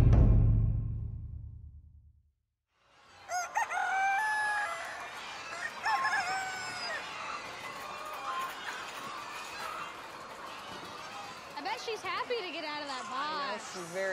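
Show chickens and a rooster at a poultry setting, with busy clucking and squawking calls over several seconds after a brief low rumble and a pause, fairly close and continuous.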